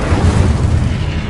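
A fire spell, Incendio, is cast in Hogwarts Legacy, producing a loud, continuous low roaring burst of flame that holds steady for just over a second with no pauses.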